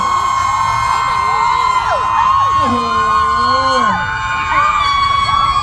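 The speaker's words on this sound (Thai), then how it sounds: "ถ้าชอบแบบนี้ขอเสียงกรี๊ดดังๆหน่อยเลย" A concert crowd screams and cheers at full volume, continuous and close, with whoops and high voices rising over a steady roar.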